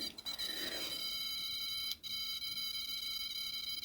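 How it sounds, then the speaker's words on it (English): An EMF meter alerting near a phone, giving a steady high-pitched electronic tone with a brief break midway, continuous and fairly close. "So it's the EMF from the phone when I get too close."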